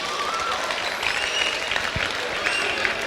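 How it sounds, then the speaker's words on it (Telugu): Audience applause at a VVIT college Maha Shivaratri event, a steady burst of close clapping lasting about three seconds with faint crowd murmur. "సో గట్టిగా చప్పట్లు కొడదాం"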